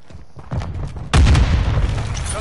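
A grenade goes off in a PS4 military shooter: some scattered shots first, then a sudden loud, close blast with a long rumbling tail, no voices.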